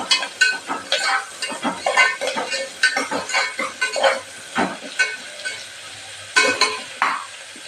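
Onion and green chilies frying in a pan give a busy run of stirring clatter and sizzle, with a spoon scraping against the pan in quick irregular strokes, close by and fairly loud.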